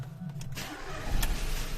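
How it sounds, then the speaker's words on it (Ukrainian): A Ford Focus 1.0 EcoBoost engine starts cold after fuel injector cleaning: a brief crank catches at close range and settles into a steady idle within a couple of seconds. "Зараз продемонструю, як двигун запускається та працює."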